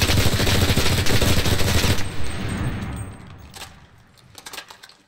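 A Thompson submachine gun in a World War II video game fires a dense, rapid burst of loud close shots for about two seconds, then falls silent as a few scattered clicks and echoing distant pops trail off.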